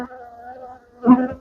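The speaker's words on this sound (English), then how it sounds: "Bees are getting in the way." Honey bees buzz around an open hive during winter feeding, a close, thin droning hum that swells into a louder burst of buzzing near the end.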